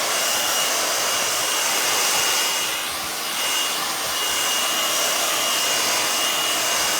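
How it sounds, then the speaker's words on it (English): A hair dryer roars in a steady, loud, broadband whoosh, briefly dipping in the middle as it moves over a craft piece, with no talk. "I'm just giving this a quick dry because I want to show you the iron-on method"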